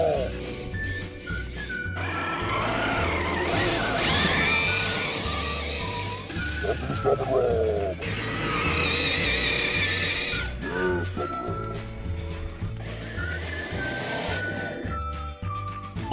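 A car spins donuts across a snowy parking lot, its engine revving and its tires skidding in rising and falling surges, mixed with excited talking and shouts from people inside.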